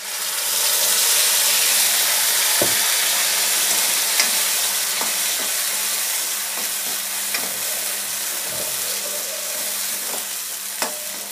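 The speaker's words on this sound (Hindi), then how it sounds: "अच्छे से फ्राई कर लेंगे, जब ये तेल छोड़ने लगे तब तक हम इसमें इसको फ्राई करेंगे" A ground paste of tomato, onion, ginger, green chili and coriander fries in oil with a steady, close sizzle, broken by occasional sharp taps of a spoon stirring the pan.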